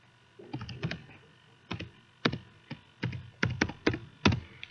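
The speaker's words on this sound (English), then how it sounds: "I'm typing some stuff you probably can't read" Keystrokes on a computer keyboard during a seminar, in close, crisp bursts of several clicks separated by short pauses, with no voices.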